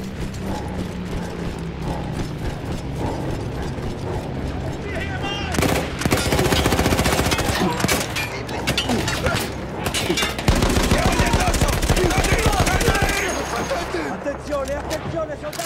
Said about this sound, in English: Quel cannone antiaereo sta battendo i nostri bombardieri!